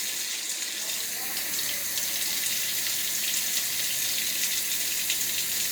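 Water running steadily from a kitchen tap while measuring two-thirds of a cup for Belgian waffle batter, a continuous hissing splash close by, with no talking over it.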